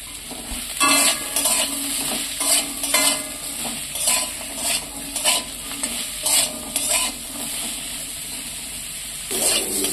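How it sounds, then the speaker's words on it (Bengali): Pointed gourd is fried in oil with salt and stirred in a pan. A loud, steady sizzle runs throughout, broken by a rhythmic series of scraping stirs. "ভেজে নিচ্ছি। এটা কিন্তু নুন হলুদ কিছুই দিইনি"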